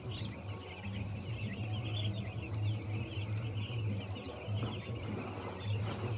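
Broiler chicks in a poultry farm shed give a steady, continuous chorus of high peeping and chirping, close and dense, over a low droning hum of shed equipment throughout.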